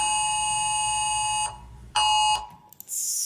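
A loud, piercing phone emergency alert tone from an iPhone or Android blares steadily, cuts out, sounds again briefly, then stops, leaving near silence.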